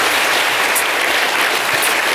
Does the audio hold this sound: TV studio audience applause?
yes